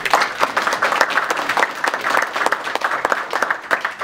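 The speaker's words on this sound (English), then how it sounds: "So we can give those folks a round of applause." An audience at a conservation breakfast briefing gives a round of applause. The dense, even clapping fills the whole stretch at a moderate, close level.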